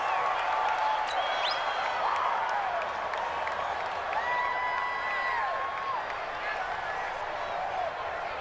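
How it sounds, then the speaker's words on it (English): Stadium crowd noise from the video game Madden NFL 20 fills a domed arena near the goal line, a dense, steady roar with faint whistles and cheers running continuously beneath commentary. "The crowd here in the Dome making things difficult."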